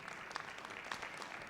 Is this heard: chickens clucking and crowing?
no